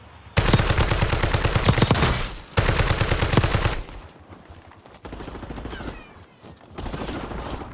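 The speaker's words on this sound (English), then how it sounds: "Incoming shots!" Rapid automatic gunfire in Call of Duty Warzone: two loud, dense bursts of close shots, then quieter scattered firing and distant shots continuing to the end.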